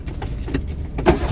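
A bunch of car keys for a Reliant Robin jingles briefly and close up in a few light metallic shakes over a low background rumble.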